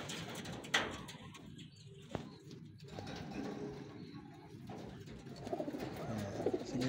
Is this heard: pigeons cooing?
yes